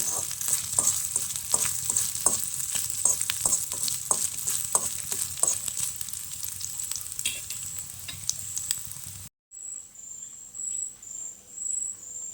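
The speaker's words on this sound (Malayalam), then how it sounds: "കുറച്ച് തേങ്ങാക്കൊത്തും കൂടി വറുത്തിടുന്നുണ്ട് ഇത് വറുത്തെടുക്കട്ടെ" Coconut pieces fry in a pan for a jackfruit ada recipe, a close, steady sizzle with occasional stirring scrapes and a high insect-like whine running throughout, then a short break and a quieter sizzling tail.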